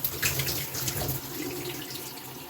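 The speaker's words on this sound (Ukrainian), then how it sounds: "Я вимкну воду, щоб показати." Tap water runs steadily, splashing onto a surface cleaned of limescale, a continuous near hiss with slight variations and no speech.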